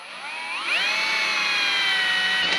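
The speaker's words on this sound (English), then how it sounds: "It's time to drill some holes into your brand new car." A power drill boring holes into the wheel-arch flare of a brand new 2021 Isuzu D-Max during a Safari snorkel install. Its motor whines up in pitch and then holds a steady, loud, close drone.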